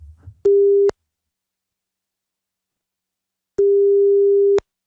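Steady telephone tone from an outgoing call, heard as two long beeps separated by a stretch of silence, loud and clean with nothing else over them.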